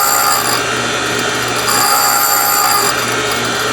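Steady, continuous abrasive rasping as an engine valve is ground against its seat, a close and loud gritty rubbing with no pauses and no talking.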